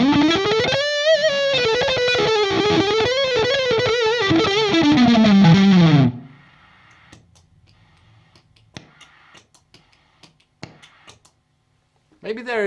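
An electric guitar through an Ibanez TS Mini overdrive pedal plays a run of gritty, sustained notes for about six seconds, then stops, leaving low hiss, scattered faint ticks and clicks, and a brief swell at the very end.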